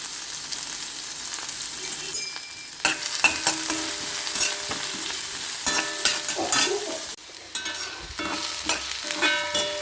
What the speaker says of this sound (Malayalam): അതിലേക്ക് ഒരു സബോള അരിഞ്ഞത്, കുറച്ച് കറിവേപ്പിൻ്റെ ഇല, ഒരു 4 അല്ലി വെളുത്തുള്ളി ചതച്ചത് ഇതിട്ട് നന്നായി വഴറ്റി കൊടുക്കുക.